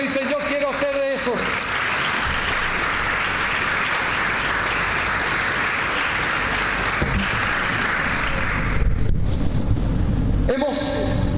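A church congregation breaks into sustained applause at a faith gathering. The dense clapping fills the room loudly from start to finish, with a brief lull near the end before it swells again.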